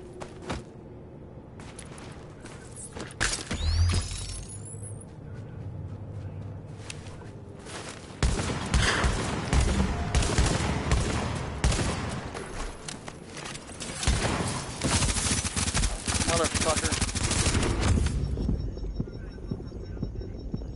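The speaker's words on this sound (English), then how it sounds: "Should just blast that guy in the back with my shotgun." Shotgun blasts and other weapon fire in The Division's Dark Zone, a run of loud, sharp bangs and rattling bursts that grows denser through the middle and later stretch.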